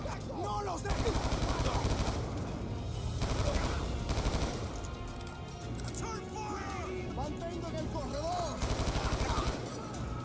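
Bursts of rapid automatic gunfire rattle in Call of Duty: Black Ops II, several fast sustained volleys separated by short pauses, with a person talking over and between the shots.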